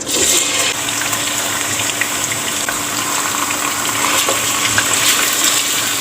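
About a kilogram of beef dropped into hot oil for degi qorma, producing a loud, continuous hissing sizzle that holds steady for several seconds close by, with no talk.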